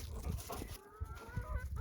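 Chickens cluck and murmur nearby in a continuous low chatter, with a few higher tonal calls rising over steady background noise.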